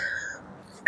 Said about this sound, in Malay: Batuk-batuk ini.